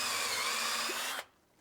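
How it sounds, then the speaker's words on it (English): A power drill bores a center hole into a wooden bowl blank, whirring loud and steady for about a second before cutting off abruptly. "Now that I've got my center, I'm going to go ahead and drill that."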